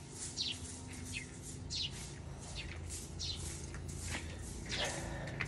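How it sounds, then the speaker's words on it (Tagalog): Birds chirp and tweet in scattered bursts by the seaside in Cebu, Philippines, on a morning near a swimming pool, with light rustling and soft footsteps over a steady background hum. "Tapos makakarinig ka ng mga ganyan, mga ibon."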